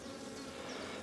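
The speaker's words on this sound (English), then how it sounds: "Lots of bees inside the hive." Honey bees crowd inside a hive with a loud, close, steady buzzing drone that holds without a break.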